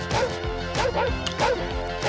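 A dog in the comedy film National Lampoon's Vacation barks and yips amid crashing, thwacking commotion as it lands on a picnic basket, with busy soundtrack noise throughout.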